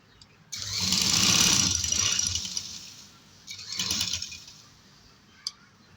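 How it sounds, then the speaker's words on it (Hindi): Sewing machine stitching the neckline of a frock runs in two bursts, a long whirring run of about three seconds followed by a shorter one, then a brief click near the end. "इसके दरमियान में सिलाई लगानी है"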